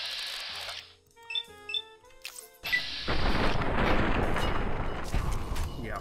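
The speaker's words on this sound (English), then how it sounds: "Sturdy carbon shotgun it is." A sturdy carbon shotgun fires in Fallout New Vegas, a heavy blast after quiet game beeps and tones, followed by a long, loud crashing roar of combat noise.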